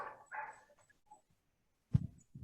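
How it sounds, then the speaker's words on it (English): Neighborhood dogs bark faintly and intermittently in the distance, with a couple of short bursts separated by quiet. "I'm going to have to tell the neighborhood dogs to be quiet. I can hear them piping up."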